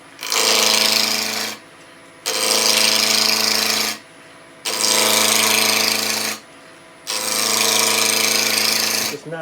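A gouge on a wood lathe cuts into spinning wood in four steady passes, each a loud rough whirring scrape of about a second and a half, separated by short quieter pauses with the lathe still humming.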